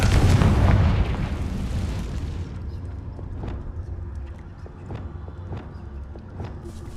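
A Confringo fire spell explodes in the game Hogwarts Legacy, a loud booming blast that rolls off into a rumbling tail, followed by scattered light taps and clicks.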